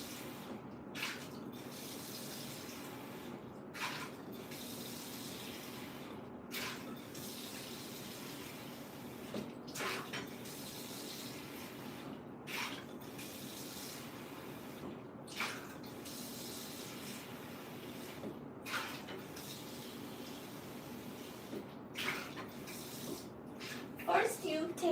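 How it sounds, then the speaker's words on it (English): Tap water runs steadily into a bowl as it is rinsed out, a continuous close rushing stream broken by periodic sloshes and splashes, with soft talk underneath. "you take a bowl and you rinse it out with water"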